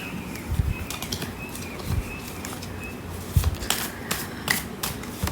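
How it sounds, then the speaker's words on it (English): Tarot cards are handled and picked from a deck, giving soft papery flicks and slides with a few sharper snaps, close and fairly quiet with no one speaking. "we'll be picking three cards from this deck"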